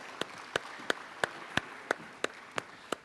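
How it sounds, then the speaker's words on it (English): Hands clap at a congress panel session as a speaker comes on stage. Nine crisp, evenly spaced claps sound at a slow, steady pace, each one distinct over a quiet room. "Please give Prune a round of applause."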